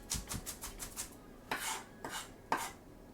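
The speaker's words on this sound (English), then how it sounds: "Getting the shot of me chopping onions is like a different life." Onions chopped on a cutting board with a knife, a quick run of evenly spaced taps followed by a few slower, heavier strokes, close and alone.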